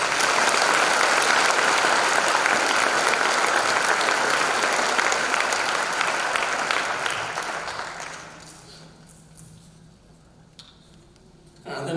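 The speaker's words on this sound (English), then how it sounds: "Let's give them a round of applause." Audience applause at a school spring band concert: loud, sustained clapping from a full room that fades out over several seconds into near quiet, with a few scattered claps at the end.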